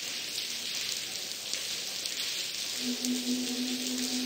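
Rain falling in the video game The Blackwell, a steady hissing downpour wash throughout with a low sustained hum joining partway through.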